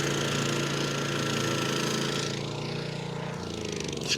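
A 350-pound SDLLM500 remote-controlled lawn mower with a dozer blade runs steadily nearby, its engine droning loudly and continuously with a slight shift in pitch toward the end.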